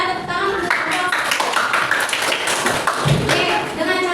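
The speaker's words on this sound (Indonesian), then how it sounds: "Oke, bagus ya, tepuk tangan." Indonesian classroom of students applauding during a lesson, a burst of scattered hand claps and taps close by, mixed with voices talking over the clapping.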